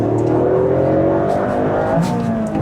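A Toyota GR Yaris 1.6 turbo with manual gearbox accelerates hard, the engine droning and climbing steadily in pitch as it pulls, loud and close from inside the car.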